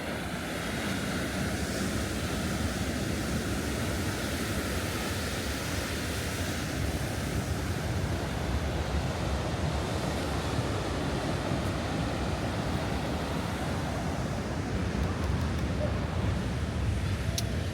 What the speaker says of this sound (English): Wow, look at those waves, yeah?